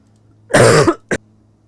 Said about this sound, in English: I'm trying to avoid coughing, but really it's a pain.